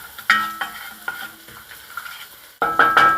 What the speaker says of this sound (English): butter starting to brown. Leeks are getting pretty tender.